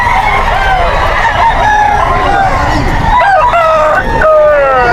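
Chickens and a rooster crow and cluck together at a busy Bocaue pet market, the crowing calls repeating loudly and close over steady crowd murmur.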